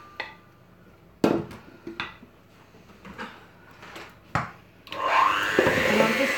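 An electric mixer whirs steadily, lightly blending 437 grams of pre-weighed butter for chocolate cake batter, after a few knocks and clatters of bowls and utensils.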